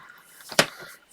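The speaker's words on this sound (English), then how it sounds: "now we're just going to cut this out by hand" A paper card is cut out by hand with scissors, giving a single short, crisp snip in an otherwise quiet room.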